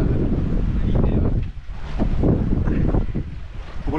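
Steady wind roars over the microphone aboard a sailboat crossing open sea from Port Leucate to Calvi, loud and continuous with gusty swells and faint wave wash beneath, no engine running.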